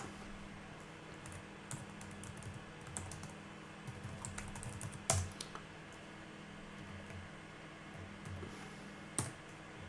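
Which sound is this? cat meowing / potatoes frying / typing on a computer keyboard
typing on a computer keyboard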